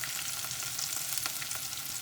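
Locust beans frying in a pan for ofada stew make a faint, steady sizzling hiss with a few soft crackles, heard alone for a couple of seconds.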